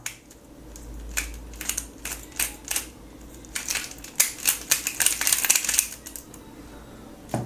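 A clicky YuXin Huanlong puzzle cube being turned by hand, rapid irregular plastic clicks and snaps in bursts, close and fairly loud, speeding into a dense flurry of turns with no talking.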